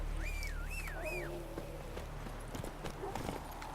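Horse hooves clip-clop steadily in the Witcher 3 video game, a close, rhythmic gallop over background game sound, with a melodic tone sweeping briefly at the start and a voice speaking over it.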